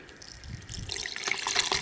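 Copper chloride solution splashes and trickles as it is poured off, beginning as a soft gurgle and growing into a brighter, steady stream of liquid.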